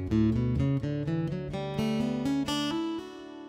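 An acoustic guitar in an alternate tuning rings out a short sequence of plucked, sustained notes and chords, each strike bright and clear, played alone with no talking.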